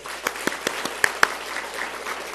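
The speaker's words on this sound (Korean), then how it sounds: "우리 인사하겠습니다. 박수 한번 주십시오." A church congregation claps briefly during a morning worship service, scattered applause rising and falling over a couple of seconds in a reverberant hall.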